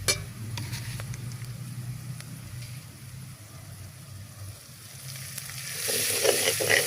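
Chili flakes fry in oil in a pan while a Sri Lankan kangkung devilled dish is cooked, making a steady close sizzle that swells and crackles more toward the end as the pan is stirred.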